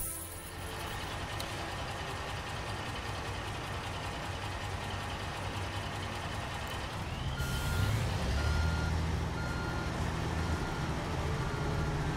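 Steady electronic reversing beeps from a flatbed truck in the Construction Simulator game, sounding over a constant diesel engine drone, with a louder engine rev and a hiss like an air brake near the end.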